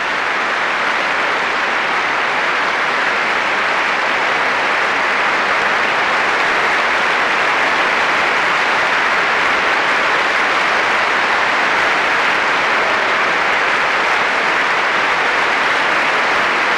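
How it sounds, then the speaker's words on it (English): A concert audience at the Proms applauds an orchestra, dense and loud sustained clapping from a large hall crowd that continues evenly with no talk. "Michael Davis, the leader, joins the applause"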